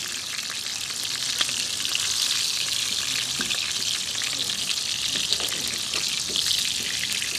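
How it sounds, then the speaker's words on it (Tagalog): Food frying in a pan sizzles and crackles steadily for the whole stretch, with small pops now and then, close and moderately loud with no talking. "luto na yung ating prito"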